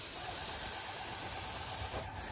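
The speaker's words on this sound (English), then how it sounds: "Well, the overspray is a little hazardous." Cedar-based transparent fence stain being sprayed onto wood, a steady close hiss that runs unbroken and briefly dips near the end.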